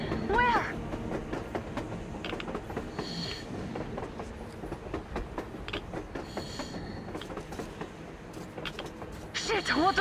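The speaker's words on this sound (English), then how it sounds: "A train! A damn train on the surface!" A moving train in the video game Metro Exodus rumbles and clatters steadily throughout, with squealing metallic tones at the start and end, beneath excited voices talking.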